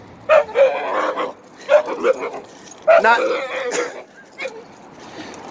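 A pet dog barks, yips and whimpers excitedly at another dog being walked nearby, in three close, loud bursts with high-pitched whining between them, while someone talks over the noise.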